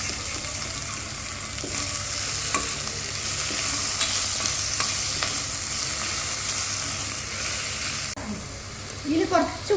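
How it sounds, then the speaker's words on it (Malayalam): Tomatoes frying in a pan for chicken curry after the onions have softened, a loud steady sizzle with a spoon stirring and scraping through it, close up, with no talk. "ഇനി നമുക്ക് തക്കാളി ചേർക്കാം."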